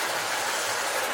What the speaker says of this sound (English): I promised you I would bring out my Marx articulated trains